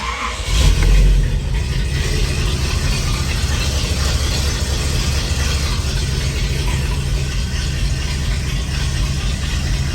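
A warmed-up 390 V8 in a station wagon idles through a stainless exhaust, a steady low rumble heard up close with one brief swell near the start.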